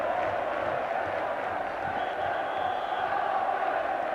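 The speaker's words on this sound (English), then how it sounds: "Listen to the crowd singing now." A football crowd sings in the stands of a 1984 Second Division match between Sheffield Wednesday and Crystal Palace, a steady, distant mass of voices and chanting filling the ground without a break.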